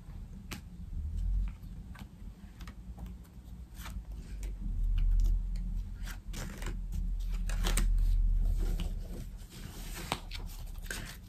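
Tarot cards being shuffled for a nine-card spread, heard as close, irregular riffling and slapping card sounds with soft rustling in between and no talk.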